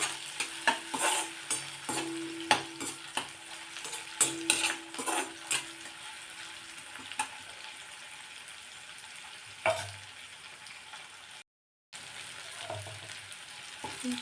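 Chopped tomato, onion and garlic sautéed in a pan on the stove, with steady stirring scrapes and clinks of a spoon against the pan over a soft frying sizzle, close up and with no talking.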